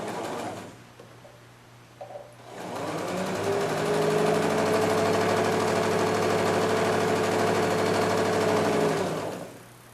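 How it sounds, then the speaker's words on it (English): A sewing machine stitches quilt strips for a beginner rail fence quilt, starting up after a brief pause and then running in one steady, continuous close hum with a faint rhythmic chatter. "So I'm going to start sewing"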